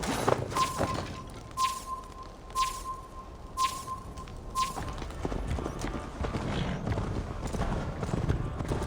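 A horse gallops in Assassin's Creed Valhalla, steady rapid hoofbeats running throughout alongside periodic chiming tones and clattering effects, moderately loud and close.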